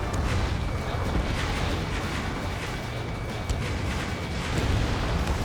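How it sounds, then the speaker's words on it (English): Missile launch and blast in Ace Combat 7, a heavy, rumbling roar with a low booming explosion that fills the whole stretch, loud and continuous with crackling bursts. "Missile launched."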